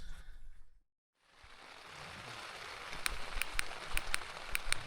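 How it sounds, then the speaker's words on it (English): Steady rain patters on a backcountry hunting camp in Colorado at night, a dense broadband hiss with a few sharper drops striking close by, after a brief hush near the start. "It's been raining on and off all night"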